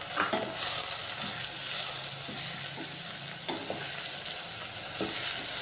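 Tomatoes go into a pan of frying brinjal, potato and egg curry, where a steady hiss of sizzling oil continues beneath several short scraping clicks of stirring at irregular intervals, close and moderately loud.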